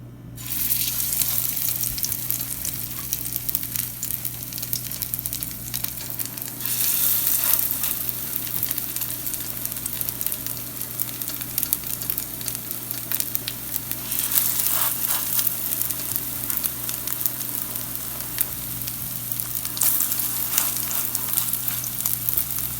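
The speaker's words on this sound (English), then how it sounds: "Couple minutes into frying, check and see that the edges are getting brown" Steady, crackling sizzle of rice and lentil patties frying in hot oil, continuous and close, with occasional louder spits and no talking.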